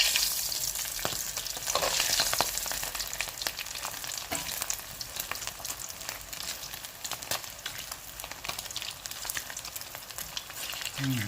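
Fish sizzles steadily in hot oil in a pan, a dense continuous crackle with brief pops, close and fairly loud with no talk over it.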